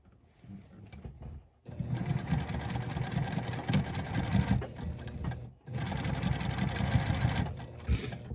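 A sewing machine top stitches a seam on patchwork pants, running in two long steady bursts after a short quieter start, with a brief pause between them and a soft voice faintly underneath.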